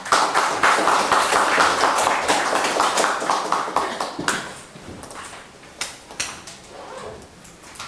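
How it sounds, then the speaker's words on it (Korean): An audience at a Korean humanities and social sciences conference applauds to welcome a speaker, steady clapping at first that thins out into scattered claps as it fades. "박수로 환영해 주시기 바랍니다"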